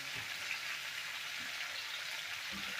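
Quiet, steady sizzling of potatoes frying in an uncovered pan, a soft continuous crackle with no voices.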